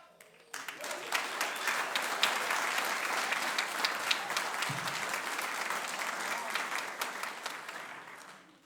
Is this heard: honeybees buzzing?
no